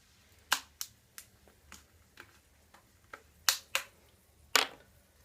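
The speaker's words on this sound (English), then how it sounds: "I'll open the soda water." A bottle of soda water is opened, giving a string of sharp, close clicks and snaps from the cap at irregular intervals, quiet between bursts, with no voices.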